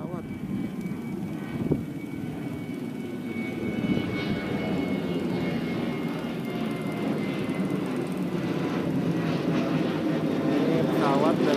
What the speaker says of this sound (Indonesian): Ini pesawat dari bandara Jogja ya